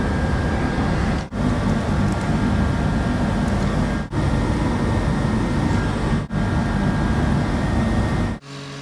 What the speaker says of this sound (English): I got to cut another triangle piece for the other side.